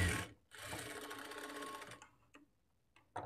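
Sewing machine stitching a folded shape belt onto a blouse, running in two close, steady bursts with brief pauses and a couple of short clicks in between, no talking.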